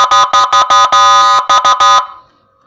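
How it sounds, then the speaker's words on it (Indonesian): A Whelen G2 siren module sounds a loud electronic tone in rapid pulsed bursts, then a longer sustained tone, more short pulses, and a final tone that cuts off into near silence. "Setelah bunyi tet kita off kan powernya, di on kan kembali, suara tototnya berubah ya."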